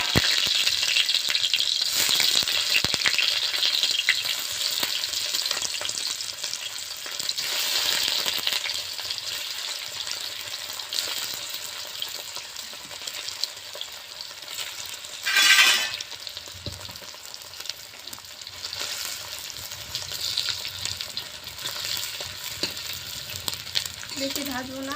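Egg pieces fry in hot oil in a wok, a continuous near sizzle and crackle with a sudden louder hissing burst partway through, then settling back to steady frying.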